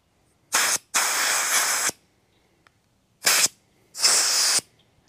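Compressed air blasts through the air filter of a Kubota Z421 mower in four separate bursts, short, long, short, long, each a loud close hiss with brief silences between.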